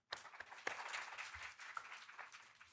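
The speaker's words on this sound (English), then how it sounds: "may we have a huge round of applause for the panelists" An audience in an auditorium applauds panelists at a session, a dense burst of clapping lasting a few seconds, fairly faint and fading out at the end.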